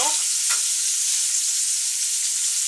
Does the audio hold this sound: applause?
no